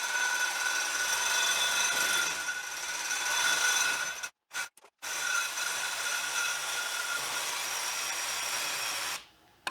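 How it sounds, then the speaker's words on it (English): Steady rasping of a hand saw cutting along the sides of a plastic fuel pump module from a 1984 Dodge Ram, continuous strokes with a brief pause midway, close and fairly loud. "able to use a saw and just cut along these sides right there"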